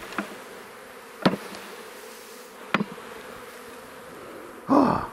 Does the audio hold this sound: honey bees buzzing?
yes